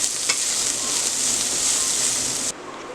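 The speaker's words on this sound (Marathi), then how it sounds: "सगळं एकत्र आता परतवून घेऊया" Paneer fried rice ingredients stir-fried in a hot pan, a loud continuous sizzle with scraping stirs, the frying noise dropping off sharply near the end.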